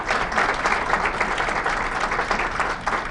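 A sustained round of audience applause at a university entrepreneurial center presentation, dense clapping holding steady throughout at moderate loudness with no talk.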